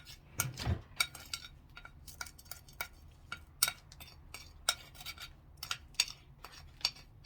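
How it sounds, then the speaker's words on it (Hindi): Brown sugar mixture stirred in a bowl for an apple cinnamon cake, a spoon scraping and clinking against the sides in irregular taps and rubs, close and fairly quiet with no talking. "और अब मैं इसे अच्छे से मिक्स कर रही हूँ"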